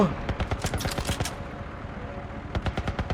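Rapid bursts of automatic gunfire from The Last of Us, loud and close, with a dense volley of shots, a short lull, then another quick burst at the end, under some voice.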